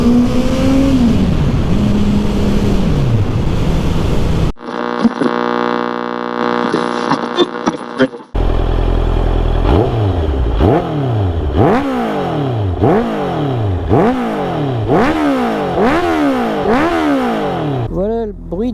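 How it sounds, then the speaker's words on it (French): A Honda CB650F motorcycle fitted with a Black Widow exhaust accelerates hard in second gear, loud and close, its engine note climbing again and again through repeated revving pulls. "Accélération en deuxième pour voir ce que ça donne."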